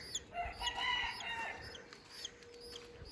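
A chick gives a few short, strained calls up close, then quiets, leaving faint background noise.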